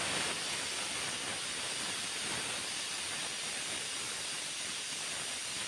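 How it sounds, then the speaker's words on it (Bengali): A pressure cooker whistles hard while chicken cooks with bottle gourd, venting a loud, steady hiss of steam that runs unbroken and alone from start to finish. "এই তো একটা সিটি চলে এসেছে"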